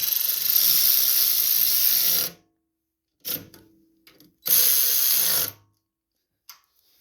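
Bolts are tightened on the carburetor of a 2021 Craftsman snowblower, with two close bursts of a whirring driver, each about two seconds long, separated by a pause with a few faint clicks.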